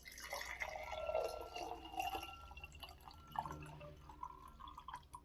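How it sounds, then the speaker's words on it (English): Tap water runs and trickles into cups, a faint, steady pour with small drips and a rising pitch as the cups fill, heard alone without talking. "I am just going to fill both of my cups with regular old tap water"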